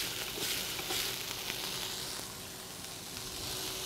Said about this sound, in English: Brown my potatoes real nice.